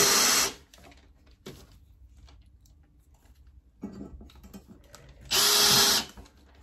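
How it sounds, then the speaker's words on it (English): A power drill drives screws into a thrifted wooden furniture piece, two loud bursts of whirring at the start and end, separated by quieter handling clatter and faint rustling. "we are going to take some screws and screw it in"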